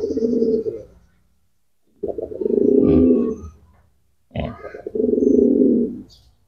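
Paired pigeons in training cooing in three deep, throaty bursts separated by short pauses, close and fairly loud.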